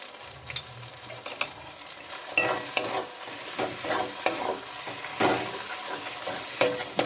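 Bottle gourd curry (lau ghonto) stirred in a pan after a spoonful of ghee goes in, with scraping spoon strokes clacking irregularly over a soft, steady sizzle, close and fairly quiet, no talking.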